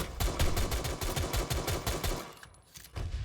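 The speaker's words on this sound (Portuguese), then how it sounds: "Total de 0 tiros bem sucedidos." Rapid gunfire from a video game, built in Unreal Engine 5, crackles in fast successive bursts that are loud and close. It pauses briefly near the end, then a couple more shots follow.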